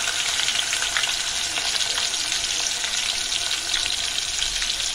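Mustard seeds, ginger and garlic frying in hot oil for dal khichdi, a steady close sizzle with faint crackles and occasional stirring throughout.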